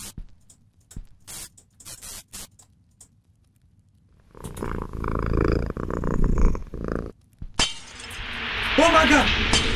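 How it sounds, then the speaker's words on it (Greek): A cat purrs in a video game: a steady low rumbling purr of several seconds that follows scattered clicks, then gives way to a louder burst of noise. "Ο γάτος είναι πάλι εδώ."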